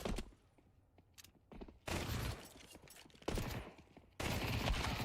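Gunfire from a Glock pistol on burst fire in Counter-Strike, heard in loud stretches of several rapid shots with quieter game ambience between them.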